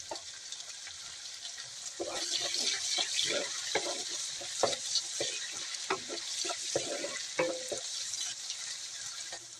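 Chopped green chili and onion sizzling and being stirred in a hot pan while cooking a mixed fish and vegetable curry, a steady close fry with scraping stir strokes and a tap running faintly in the background.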